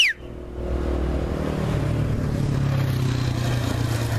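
Motorcycle engine running outdoors, a steady low rumble that rises and holds as the bike pulls away, fairly close and continuous with no talk.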